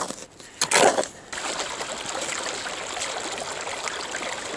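Fast-moving stream water rushes steadily at a gold prospecting site near the Lynx and Bannie mine, with a brief louder splash near the start and then an even, continuous flow.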